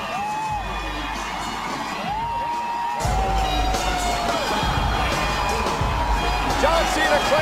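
A wrestling arena crowd at a 2012 Raw show reacting to John Cena, a loud, continuous wash of cheers mixed with boos and whoops. It swells and rises further after a few seconds, with a voice speaking over the noise.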